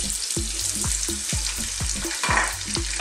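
Red onions sizzle in hot spiced oil for a cauliflower curry, with a loud continuous frying hiss and rhythmic, repeated stirring scrapes close by, no voices.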